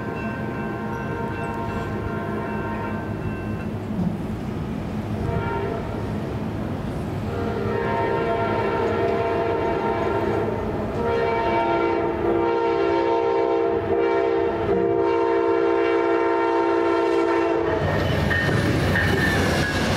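A westbound Amtrak P186 passenger train passes Lee Hall, its wheels and rumble loud and close throughout, with sustained horn blasts sounding from the middle of the pass and another burst near the end.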